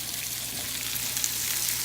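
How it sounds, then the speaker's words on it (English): Salt-and-pepper seasoned food sizzles in a non-stick skillet, a soft, steady frying hiss with faint crackles, close and unbroken for a couple of seconds. "we're just going to put some of our basic seasoning on there, salt and pepper, and let it sizzle"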